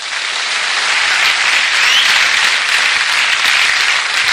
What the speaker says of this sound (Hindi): इसके लिए ताली मारो